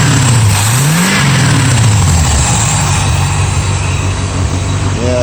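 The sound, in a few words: engine revving on a 1969 VW Vette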